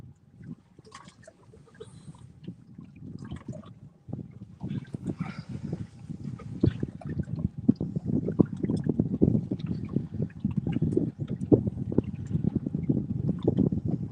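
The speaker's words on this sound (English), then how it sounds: "Our wind direction has changed." Wind gusts across open water on a boat out catfishing in the hot Texas summer, a steady rumbling buffet that builds and stays loud with faint watery sloshing underneath, and no talk.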